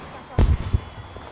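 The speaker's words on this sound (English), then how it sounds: "Fireworks! Love fireworks!" Fireworks burst in Just Cause 3, a short cluster of booming, crackling explosions that rises suddenly and fades within a second.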